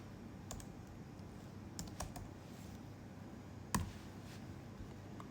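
Someone types on a computer keyboard, filling in a contact form: sparse, quiet key clicks in small clusters with one sharper tap, set against a soft room hum.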